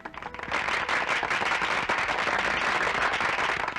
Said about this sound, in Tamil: பட்டாசு வெடிக்கிற சத்தம் கேட்கறத